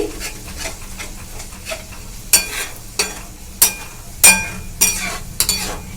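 Yogurt and masala being worked around a pan over low heat for paneer masala: a soft, steady sizzle broken by sharp, repeated spatula scrapes and clinks against the metal, close and clear, with no talking.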